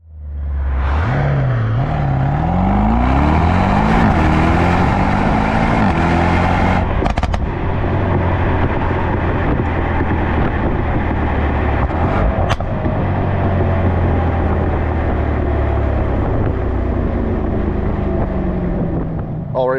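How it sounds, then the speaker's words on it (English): A Mercedes-AMG S 63 E Performance revs hard, its engine and exhaust rising in pitch through the gears with a loud, continuous roar and a couple of sharp crackles, heard up close with wind rush throughout. "You should have just heard some exhaust notes."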